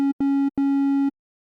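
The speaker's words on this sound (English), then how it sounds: "Let's just start off with the basic shape wavetable" Synthesizer bass from a basic-shape triangle wavetable in a house track, three clean sustained notes at one pitch, two short and one longer, separated by brief gaps, with no talking.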